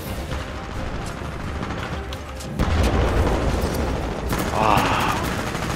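Shotgun fire in the video game Titanfall 2, heavy booming blasts and clattering gunfire in a busy firefight, loud and close with a big burst midway, over game noise with a player talking.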